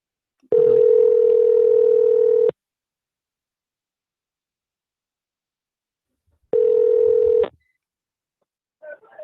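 A telephone line gives out a steady tone held for about two seconds, then a shorter repeat after a pause, followed by faint brief blips as a call is placed.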